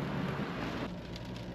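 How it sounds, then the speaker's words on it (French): Rain falling steadily during a road trip through Bosnia and Herzegovina, a dense hiss of drops with no talking. "Aujourd'hui, il pleut, il mouille."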